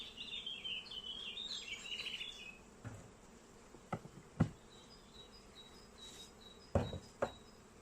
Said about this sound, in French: on a des abeilles en pleine forme et qui travaillent